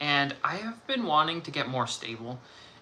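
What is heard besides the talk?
No distinct noise like a dog, phone or traffic.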